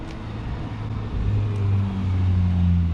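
A Honda Civic Type R FK8 with its turbocharged engine running, a steady low rumble that swells about a third of the way through into a louder droning hum, close and continuous with no talk.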